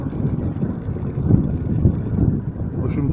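Wind blows across a microphone beside a small wind turbine built around a tractor generator, gusting up to about 5 m/s, a loud rough rumble that swells and eases.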